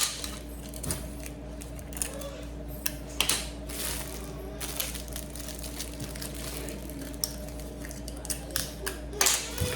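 Cellophane being wrapped around the underside of a gift basket, with soft crinkling and rustling plus scattered clicks and handling taps at moderate level over a steady low hum.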